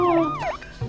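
Wailing emergency siren on a passing ambulance, its pitch sweeping up and down in quick loud cycles, heard close and clear with no talk.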